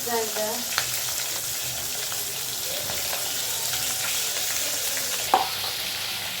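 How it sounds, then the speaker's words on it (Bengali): Fish pieces frying in hot oil in a pan give a close, steady hissing sizzle with light crackle, joined by a couple of brief clinks of a utensil against the pan. "মাছগুলো ভাজা হয়ে গেছে"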